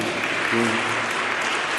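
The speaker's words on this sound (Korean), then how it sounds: "오늘 박수만 쳐드리겠습니다." A short stretch of steady, full applause from a church congregation, dense and even, with a faint voice underneath.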